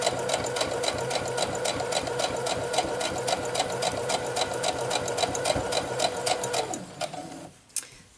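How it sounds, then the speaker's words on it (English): A sewing machine stitches cotton quilt pieces, running in a steady rapid mechanical whir and clatter close up for several seconds before slowing and stopping near the end; no voices. "I'm going to finish sewing it"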